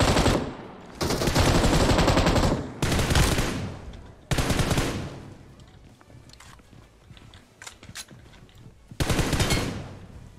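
Heavy automatic gunfire from PUBG Mobile in loud sustained bursts separated by short pauses, with scattered single shots and game noise between; no talk over the shooting.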